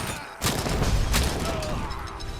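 Grenades exploding in the video game Robocop: Rogue City, with two broad, loud blasts about a second apart rumbling through a dense, noisy game mix.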